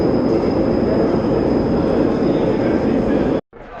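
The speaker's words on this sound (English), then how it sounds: "So I'm just coming off the metro right now, coming up out the exit stairs" A metro train rolling through a station, loud and steady with broad rumble and a high whining tone, then cutting off abruptly near the end as if leaving the platform area.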